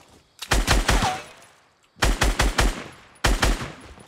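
Three loud bursts of rapid gunfire in the Fortnite Battle Royale video game, each a quick string of close shots, separated by short quiet gaps.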